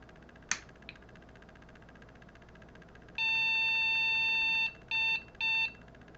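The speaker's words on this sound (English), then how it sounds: "Long beep and 2 shorts," An IBM 5150 computer powers on and gives its POST beeps, one long tone followed by two short ones, clear over a low fan hum, with a brief click before them.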